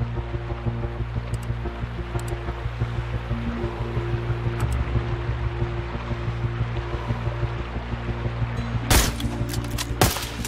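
Two sharp gunshots crack near the end in the Sniper Ghost Warrior 3 shooter game, set against a constant rushing ambient wash of water or wind.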